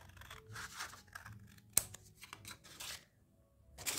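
Scissors snip through paper close by, trimming the edge of a handmade mini book: quiet rustling and several short cutting strokes with one sharp click partway through.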